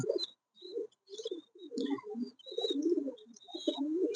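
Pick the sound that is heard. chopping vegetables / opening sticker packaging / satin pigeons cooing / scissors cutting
satin pigeons cooing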